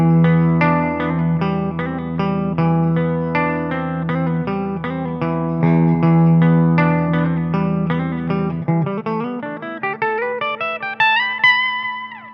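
An electric guitar with effects plays a recurrent verse riff, a busy repeating run of picked notes that climbs toward higher, sparser notes near the end, played alone and loud.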